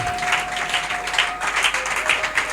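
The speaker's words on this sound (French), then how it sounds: "Est-ce que tu peux acclamer le Père céleste encore?" Church congregation applauding and cheering for the heavenly Father, steady fast clapping from many hands with a sustained organ-like tone underneath.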